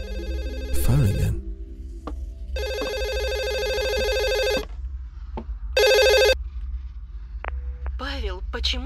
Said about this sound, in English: Phone again.